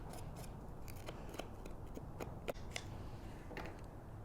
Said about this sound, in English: you can even go over the top with your scissors to get a more distressed edge.